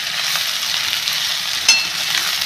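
Chopped onion and green chilli drop into hot oil with aubergine and potato already frying, raising a steady, close, bright sizzle that flares briefly as they hit the pan.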